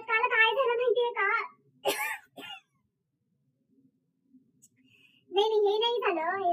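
Someone talking in Marathi breaks off with two short, sharp coughs close to the mic, then pauses briefly and resumes speaking.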